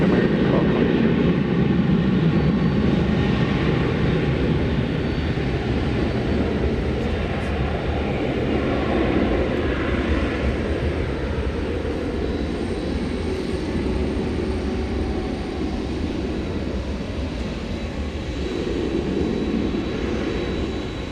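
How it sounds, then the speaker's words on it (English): UPS cargo jet at DFW Airport at night, bound for Louisville: a sustained loud engine roar and rumble that holds steady for about twenty seconds, easing slightly near the end, with no talk over it. "This is UPS flight 773. It's going to Louisville."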